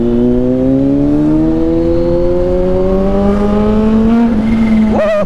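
A supercharged Kawasaki ZH2 motorcycle accelerates hard, a loud close engine whose pitch climbs steadily through a gear before a sharp change near the end.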